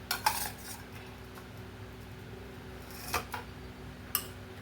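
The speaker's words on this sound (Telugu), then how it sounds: "బెల్లం కరిగే వరకు కొంచెం కలుపుకోవాలండి" A spoon stirring jaggery and raw mango pieces for Ugadi pachadi, quiet with a few sharp metallic clinks and scrapes against a vessel, close, with faint background hum and no talking.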